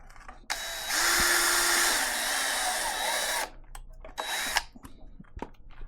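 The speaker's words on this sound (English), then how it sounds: "We're just going to drill our pilot hole for our mounting screws." Power drill boring a pilot hole for mounting screws while fitting a battery tender plug on a Honda Shadow 750 motorcycle, a loud steady whine that runs about three seconds, stops, then gives a short second burst, followed by small handling clicks.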